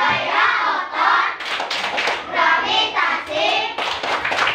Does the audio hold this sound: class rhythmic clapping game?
yes